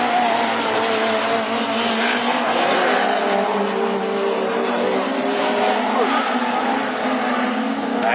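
A Super 1600 rallycross race car at a French championship round in Mayenne drives off, its engine roaring loudly and steadily for the whole stretch, with tire noise beneath.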